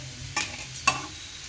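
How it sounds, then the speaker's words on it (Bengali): Potatoes sautéed in a pan while ghugni is being made give a soft, constant frying hiss, broken by two sharp scraping stirs, close and alone without speech. "আর আমি আলুটাকে কষাই করে নিচ্ছি"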